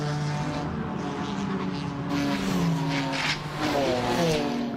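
Pirelli GT4 America race cars at speed at Sonoma, climbing a hill, with engines droning loudly and steadily throughout and a rising pitch toward the end.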